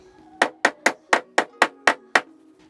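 Eight evenly spaced, close knocks from a rubber hammer striking the wood of a yoga stool under repair, each a solid resonant thud in a steady rhythm.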